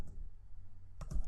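A handful of quick, faint keystrokes on a computer keyboard arrive in a short cluster after a stretch of near silence.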